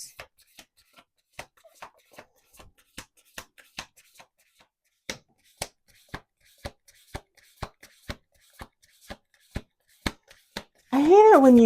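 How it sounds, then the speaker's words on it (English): A deck of oracle cards is shuffled by hand in a quiet room, giving crisp sharp snaps, uneven at first and then settling into a steady beat. A voice begins speaking right at the end. "we're going to do one more shuffle"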